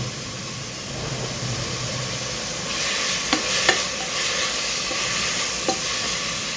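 Turmeric stirred into a sizzling flat bean, onion and chili mixture in a pan, a continuous close frying hiss with a few sharp spoon scrapes and clicks.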